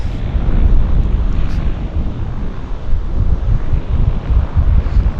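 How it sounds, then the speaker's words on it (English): Wind at Vancouver's downtown harbour airport, a loud, steady low roar and buffeting across the microphone with no talk, lasting the full few seconds. "So definitely we've got wind"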